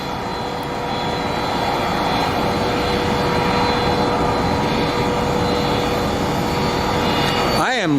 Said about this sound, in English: And we have a Southwest that's landing on 25 right.